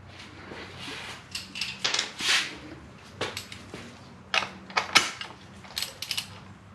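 Ratchet wrench cranking a filter adapter to loosen the oil filter on a 2020 Acura RDX, heard as bursts of mechanical clicking and creaking in short irregular spurts, close by with no talking.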